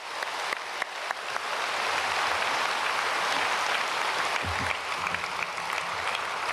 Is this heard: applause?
yes